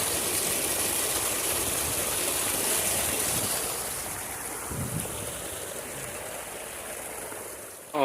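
Water rushes steadily through a date palm garden, a loud, continuous flowing hiss that eases slightly in level partway through, with no voices.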